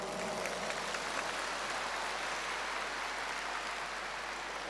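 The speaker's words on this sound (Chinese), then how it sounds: "你们不鼓掌，我看不动了" An audience at an event in Singapore claps in a steady, continuous patter that stays even and moderately distant throughout.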